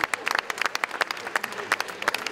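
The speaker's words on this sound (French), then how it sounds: "Notre ami Miloud Kamel, ici présent, on l'applaudit" Audience clapping at a rugby league tribute gathering in France, a sparse, uneven patter of individual hand claps close by, with a faint voice murmuring underneath.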